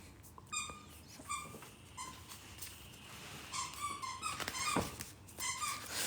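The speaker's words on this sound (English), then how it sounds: "That's my dog, Mustache, with a little squeaky toy." A small dog plays with a squeaky toy indoors, producing repeated sharp, high-pitched squeaks in irregular bursts, some quick doubles, against quiet room noise.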